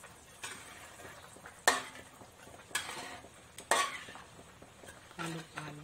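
Instant coconut milk being stirred into a pot of beef gulai: a few sharp utensil knocks against the pot between soft scraping and a low simmering bubble, ending with a couple of quick clinks.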